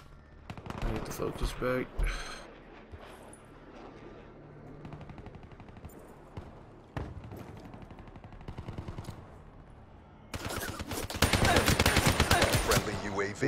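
Rapid gunfire bursts in Black Ops 3 multiplayer, including pistol shots, with a loud sustained volley near the end; a player talks excitedly between and over the shots.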